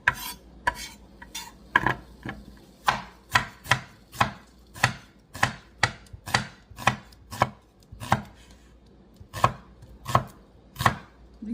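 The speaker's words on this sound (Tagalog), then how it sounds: "Then I'm gonna cut the onions." Organic onions from a farmers market are chopped with a knife, each stroke a sharp knock on the board, roughly sixteen cuts in a fairly even rhythm, close and clear with no talk.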